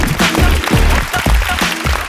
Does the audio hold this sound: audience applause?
yes